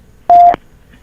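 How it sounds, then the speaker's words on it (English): Telephone ringback on a 911 emergency call recording: a single steady electronic tone lasting about a quarter second, loud and alone, with quiet line noise before and after. "How the hell he answered 911 and the phone still ringing?"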